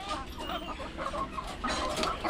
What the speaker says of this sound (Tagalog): puntahan natin tong ano, kulungan ng aking mga lagang manok